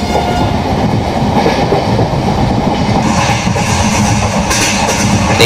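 A Duronto Express train in the MSTS Open Rails simulator runs at about 106 km/h, overtaking a local train and passing through a station: a steady, loud rumble with rhythmic clickety-clack of wheels over rail joints throughout, with no talking.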